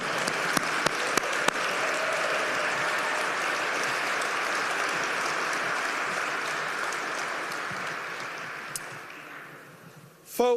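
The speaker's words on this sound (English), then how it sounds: "my first round of applause is to my wife" An audience at a mayor's State of the City address in Richmond applauds steadily and loudly throughout, a dense sustained clapping from a large crowd that fades slightly near the end.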